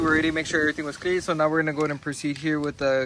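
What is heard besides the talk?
No distinct noise like a dog, phone or traffic.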